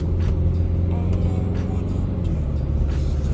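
A Renault Koleos 2.0 dCi with automatic transmission accelerating smoothly under light throttle, its steady low engine drone heard from inside the cabin, continuous and moderately loud.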